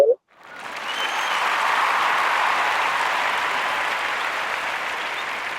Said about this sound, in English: Round of applause for Sierra Leone.